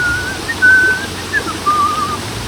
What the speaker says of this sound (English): Little robin. Everywhere I go, I get robins coming to see me.